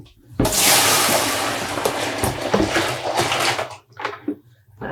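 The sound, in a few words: pouring out water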